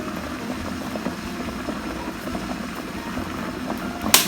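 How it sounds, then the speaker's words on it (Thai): A pot of Thai curry with sweet potato and grilled roe fish boiling steadily, a continuous low bubbling and simmering murmur with faint pops throughout and a brief sharper knock near the end. "เราก็จะปอยให้มันเดือดสักพักหนึ่งก่อนนะคะ"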